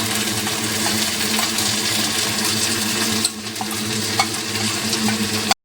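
Spice paste frying in hot oil with onions and whole garam masala for mutton curry, a continuous close sizzle with occasional stirring scrapes and clicks, ending abruptly.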